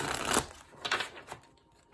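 Tarot cards riffled and shuffled by hand, with a rapid papery burst at the start, then a few short crisp flicks, close and fairly quiet with no voice.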